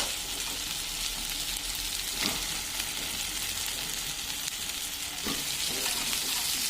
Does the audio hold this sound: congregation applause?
no